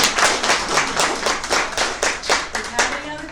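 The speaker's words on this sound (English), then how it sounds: "let's give Bobbie a big round of applause." A small audience claps for an artist at the close of an artist talk, a short burst of distinct, uneven hand claps from a modest group, fairly close and steady for a few seconds.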